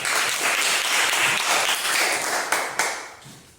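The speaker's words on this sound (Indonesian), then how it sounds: "Tepuk tangan" A classroom full of people clapping steadily, then a few sharper claps as the applause tapers off.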